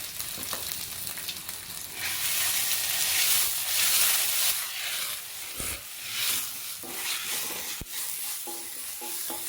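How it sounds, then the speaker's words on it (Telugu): Cumin seeds and ginger garlic paste frying in a couple of spoons of oil for palak paneer, a steady hissing sizzle with intermittent stirring clatter from a spoon against the pan, no voices. "రెండు స్పూన్లు ఆయిల్ వేసాము కాస్త జీలకర్ర వేసుకున్నాము తర్వాత ఒక అర్ధ స్పూన్ అల్లం వెల్లుల్లి పేస్ట్ వేసుకున్నాము"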